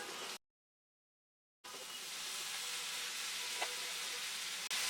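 Cumin powder fries in a pan and is stirred. A soft, steady sizzle with faint scraping sits close by, broken by a silent gap of about a second near the start.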